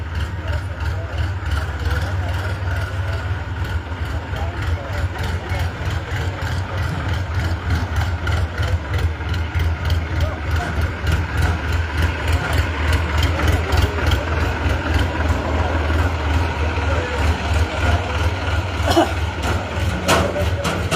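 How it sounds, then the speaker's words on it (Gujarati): A tractor engine running nearby at an outdoor political gathering, a low, steady rumbling drone with a rapid regular throb that swells somewhat louder over time, with voices present underneath. "ટ્રેક્ટર ને લઈ જવા દે"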